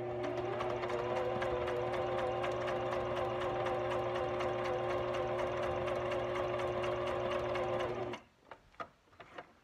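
A sewing machine stitches a zigzag along paper snippet strips, running in a fast steady rhythmic whir for about eight seconds, then stopping, followed by a few soft handling clicks.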